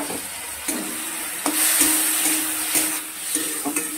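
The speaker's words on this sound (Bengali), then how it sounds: "আদা টমেটোটাকে ভালো করে আমি ভেজে নেব" Ginger paste and tomato frying in a pan for a katla fish curry with pointed gourd: a steady hiss of sizzling with occasional clacks of a spatula stirring against the pan, close up.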